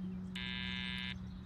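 A door buzzer in the Broken Sword 5 video game gives a single steady electronic tone lasting just under a second, set against a constant low mains-like hum.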